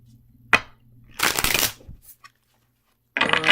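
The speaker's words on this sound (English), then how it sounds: "One more shuffle, and we will be good to go." Tarot cards being shuffled by hand: a short riffle, then a longer papery flurry of cards, a pause, and another burst of shuffling, all close and fairly loud.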